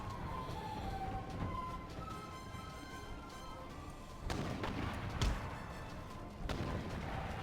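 Artillery bombards walls during a siege in Empire: Total War, with several dull booms and thuds at irregular intervals over a steady background rumble of battle.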